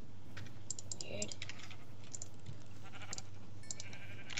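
Sheep bleating in Minecraft, a few short bleats over steady keyboard typing and a low background hum, faint and without talk.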